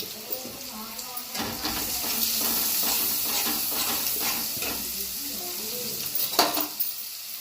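Onion frying in oil in a pan, a dense continuous sizzle and hiss close up, with stirring scrapes and a few sharper bursts, a voice talking over the cooking throughout.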